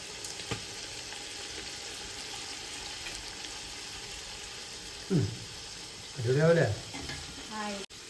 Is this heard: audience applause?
no